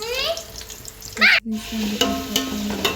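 Onions frying in oil with turmeric in a pot for biryani, a steady sizzle with stirring scrapes and clatter, close and moderately loud.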